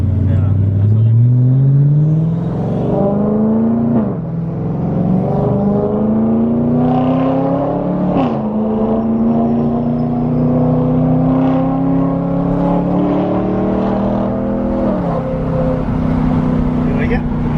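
A car fitted with an aftermarket $3000 exhaust idles and revs, its engine note rising and falling in repeated pulls, loud and close, with people talking over it.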